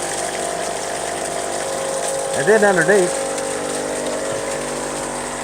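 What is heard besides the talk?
water pump running trommel spray bar wide open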